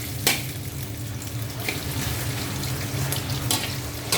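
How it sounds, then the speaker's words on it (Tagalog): Ginger sautés in a pan for tinola with a steady, moderate sizzle. A few sharp clinks of a utensil against the pan stand out, and there is a low background hum. No one speaks. "Sinagyan natin ang ating luya."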